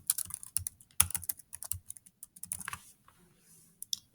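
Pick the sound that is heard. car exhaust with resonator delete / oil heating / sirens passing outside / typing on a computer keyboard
typing on a computer keyboard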